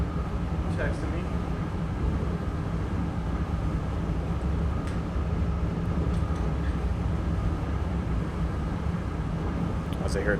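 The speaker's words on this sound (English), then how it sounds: "As I hear a train go by outside." A real train rumbles past outside at night, a steady low drone and rolling noise heard from indoors, with a voice talking over it.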